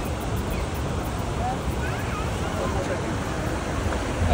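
Water rushes at Niagara Falls as a steady, broad roar mixed with wind, moderately distant and continuous throughout.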